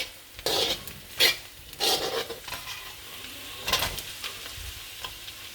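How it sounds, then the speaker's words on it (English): Red and green capsicum frying with onions in a pan, with intermittent stirring scrapes and clatter over a soft, steady sizzle, close and fairly quiet. "I'll put red and green capsicum on."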